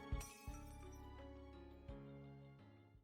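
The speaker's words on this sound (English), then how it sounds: "not even turning back to look when we hear the shatter of glass" Glass shatters in the video game Cinderella Phenomenon, a short bright crash at the very start that rings into a sustained, low musical background.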